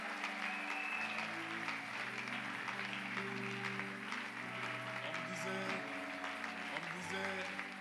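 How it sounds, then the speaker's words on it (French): An audience at a church service applauds as Pastor Mardochée Kuzi comes forward, a steady dense patter of clapping running throughout alongside sustained tones and a voice. "Il peut avancer sur vos applaudissements."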